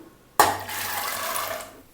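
Water is poured into a pot of soaked chickpeas for chana masala. A sudden close splash starts a steady pour that runs for about a second and a half, then tapers off.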